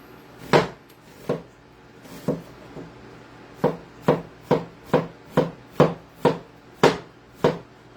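A knife slices an onion thinly on a cutting board for French onion style meatballs, a dozen crisp chops close by, spaced irregularly at first and then in a steady rhythm, with no talking.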